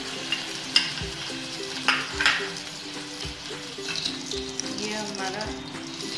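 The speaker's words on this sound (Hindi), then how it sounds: "उसमें हम बटर डाल रहे हैं।" Butter melts and sizzles in a hot pan while semolina fingers are being made, a soft, steady frying hiss broken by a few clinks of a spoon on metal and faint background sounds.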